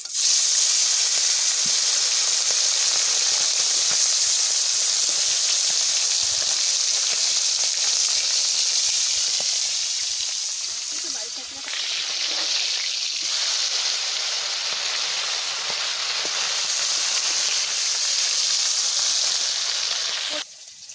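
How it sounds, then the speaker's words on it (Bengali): Tilapia fish frying in hot oil makes a loud, continuous sizzling hiss that holds steady for about twenty seconds, dipping slightly partway through, with no voices. "মাছ ভাজা বসাই দিচ্ছি"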